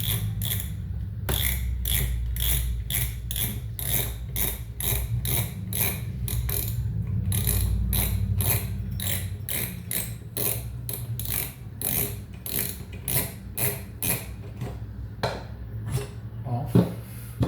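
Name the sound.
Okuma Surf 8000 fishing reel mechanism turning during cleaning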